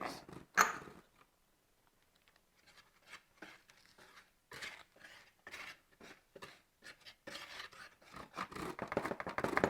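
Dry flour, salt and sugar whisked together in a bowl for buttermilk biscuits: faint, scratchy brushing strokes in quick irregular bursts after a mostly quiet start, growing busier toward the end.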